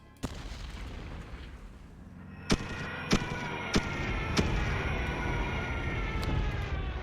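Artillery bombardment in the strategy game Decisive Campaigns: Blitzkrieg, with four or five sharp booms at irregular intervals over a steady low rumble, moderately loud and with no voices.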